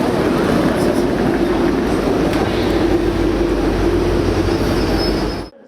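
A Swedish X2000 express train rolling on rails, a loud continuous rumble with rattling wheels and a faint high squeal, steady until it cuts off abruptly near the end.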